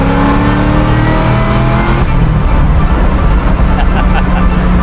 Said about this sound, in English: Only thing you hear whining is that supercharger.